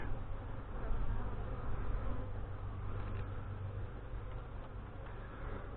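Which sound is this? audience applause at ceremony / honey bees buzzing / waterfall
honey bees buzzing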